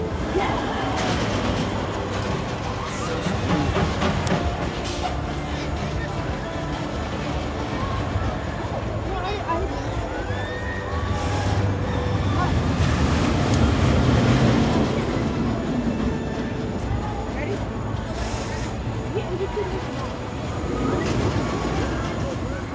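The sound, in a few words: Riddler Mindbender roller coaster ride at Six Flags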